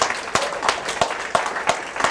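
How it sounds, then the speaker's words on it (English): Audience clapping at an evening talk event, heard as a loose rhythmic run of roughly six sharp, evenly spaced claps over a low crowd murmur, fairly close and moderately loud. "Y'all clap it up for yourselves."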